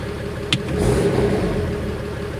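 A Cummins diesel engine that keeps stalling once warm runs at a steady idle, then surges briefly as the throttle is snapped, rising and falling back within a couple of seconds, close and fairly loud.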